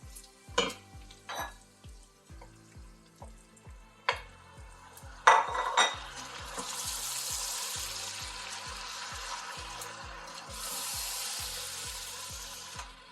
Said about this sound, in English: let's add in our spinach and just cook this down for a few more minutes